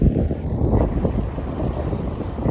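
Strong summer wind buffets the microphone at the seaside in Stanley Park, Vancouver, near Lions Gate Bridge, a loud continuous low rumble with uneven gusts and no voices.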